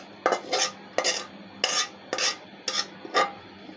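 A serving spoon scrapes and clinks against a dish six times in a steady rhythm while food is poured out and served, close and fairly loud with brief quiet gaps between strokes.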